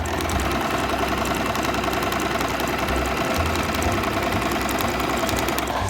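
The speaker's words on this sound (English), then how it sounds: "So to activate sewing, use the foot control by pressing it and release to stop." An electric sewing machine runs steadily on a normal stitch at length 3, a loud, continuous mechanical whir and rapid rhythmic clatter lasting the whole time with no talking.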